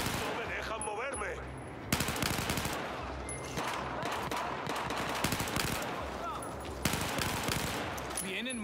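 Dense, continuous gunfire in Battlefield 4, rapid machine-gun bursts layered with sharper shots throughout a chaotic firefight, with shouting voices under the din.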